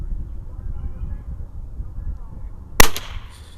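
Sharp single gunshot from a Mossberg 44US .22 rifle fired outdoors on a property, a loud crack near the end with a short ringing tail over quiet background.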